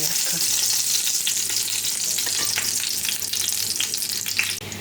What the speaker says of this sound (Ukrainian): І смажу наступні.